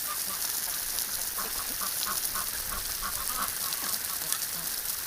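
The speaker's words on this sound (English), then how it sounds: "there's that really cute duck" A duck on a winter morning gives soft, scattered quacks over a constant background wash, close and moderately loud.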